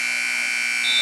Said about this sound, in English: Amanda Stouffer at the buzzer, no good.